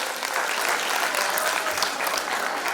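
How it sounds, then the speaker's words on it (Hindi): At a school annual function, the audience claps for nursery-class prize winners, a short, dense, even burst of applause heard up close. "तालियों से इनका स्वागत तो बनता है।"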